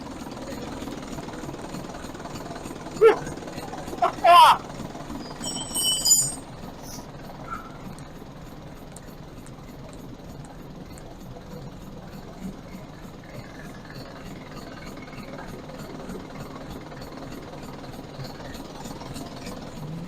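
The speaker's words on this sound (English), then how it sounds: "leave the engine running, because it's filling up with smoke." An old engine, restarted after at least two decades unused and filling a shed with smoke, idles with a steady low rumble, a few sharp metallic clanks early on, then settles into a continuous drone.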